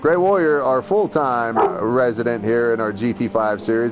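A pet dog barks and yips in the background, partly masked by someone talking steadily over a Gran Turismo 5 racing league broadcast.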